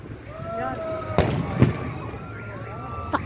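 Outdoor fireworks going off in a few sharp bursts, with a couple of distinct booms amid background chatter and voices.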